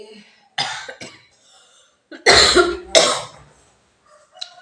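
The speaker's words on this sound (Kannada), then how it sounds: "ಕೆಮ್ಮು ಹೋಗ್ತದೆ ಇರೋಣ ಕೆಮ್ಮು" A few harsh coughs close by, a short one followed by two louder, heavier bursts with quiet pauses around them.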